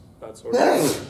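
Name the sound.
sneeze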